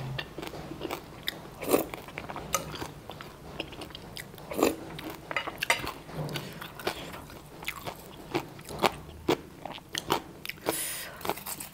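Biting and crunching into crispy pork with green papaya salad, close and distinct, repeated sharp crunches every second or so between softer chewing, no talk.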